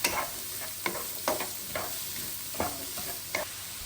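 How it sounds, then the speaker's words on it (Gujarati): Zucchini with ginger and green chili is stirred in a sizzling pan, the spoon scraping in irregular strokes over a steady frying hiss, close and fairly loud, with no talking. "અને પછી ઝુકીની એડ જોડે જોડે કરી દઈશું. હવે એને હલાવી લઈએ બધાને."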